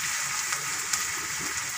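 Mixed vegetables with onion frying in a pan give a steady, close, even sizzle with a few faint stirring ticks, no voice over it.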